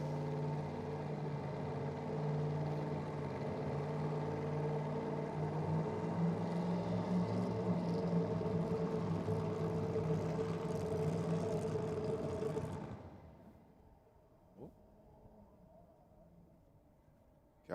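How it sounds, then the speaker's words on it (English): A drag racing car at Sydney Dragway rumbles loudly at a steady idle after a burnout, then cuts out abruptly, leaving near silence with one faint knock. "Nice burnout from Master Zapier."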